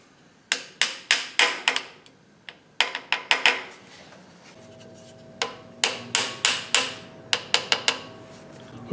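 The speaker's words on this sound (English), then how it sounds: "I'm going to tap these in the block right now" A hammer taps seal sleeves into a Pontiac 455 engine block in quick bursts of sharp metallic strikes separated by short pauses, close and crisp with no talking.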